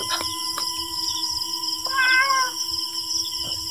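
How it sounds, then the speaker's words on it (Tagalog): A cat meows once, fairly close and clear, near a parked motorcycle that won't start at night, with a steady electrical whine and low rumble behind it. "Parang huni ng pusa to ah."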